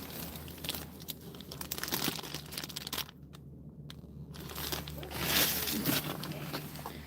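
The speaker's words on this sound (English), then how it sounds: "Where's my little plastic bag?" A small plastic bag crinkles and rustles in irregular bursts close by, out on the ice during trout fishing, with a brief quiet pause before the handling picks up again louder.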